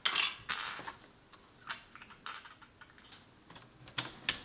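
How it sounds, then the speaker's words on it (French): A paper cutter blade being changed during scrapbooking: a series of sharp, bright clicks and small metallic clinks and taps, scattered irregularly and fairly close, with no talking. "Là, je vais changer ma lame."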